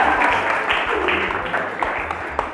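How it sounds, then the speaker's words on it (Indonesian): Brief burst of audience clapping at a talk show, mid-distance and moderately loud, with a low background hum and faint voices mixed in. "Tepuk tangan dulu."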